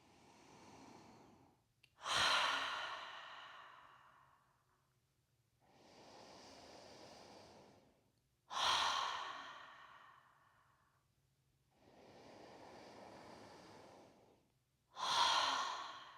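Deep breathwork rounds in a somatic stress-release exercise: three loud, sharp inhales that trail off, alternating with softer, steady exhales over a low hum, no talking.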